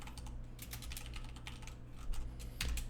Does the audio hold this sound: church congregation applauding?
no